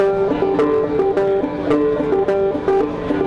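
Old-time banjo picked and strummed in a quick, steady bouncing rhythm, bright plucked notes with regular brushing strums, close and fairly loud.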